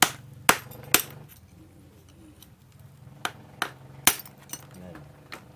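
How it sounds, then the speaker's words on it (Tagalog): Sharp metal hammer strikes on a screw in a stand fan's bushing, about seven loud separate knocks at uneven intervals over a low steady hum, with brief metallic ringing after the hits. "Pukpukin nyo lang din ang ano, pukpukin nyo lang din ang screw"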